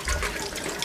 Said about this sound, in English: Rinse it. It will use some water, there is no choice about it.